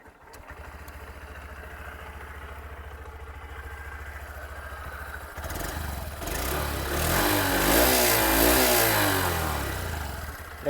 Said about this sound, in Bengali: এবার চলুন এই বাইকটা যে এক্সস্টের সাউন্ড সেটা আমি আপনাদেরকে শুনিয়ে দিচ্ছি।